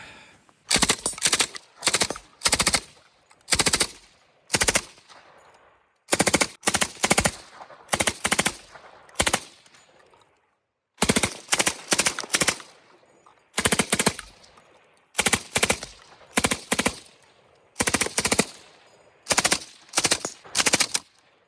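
A machine gun fitted with a 3D-printed suppressor and an unregulated gas block fires in loud, close bursts of several rounds each, with short silent gaps between the bursts.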